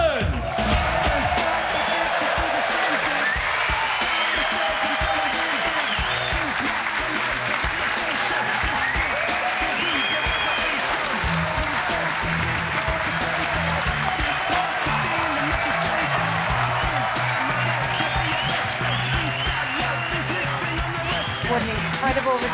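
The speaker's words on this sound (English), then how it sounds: "What an incredible reception from this crowd once again." A snooker crowd at the Masters gives Mark Allen a sustained, dense ovation on his walk-on, loud continuous applause with scattered cheers and whoops, while a commentator talks over it.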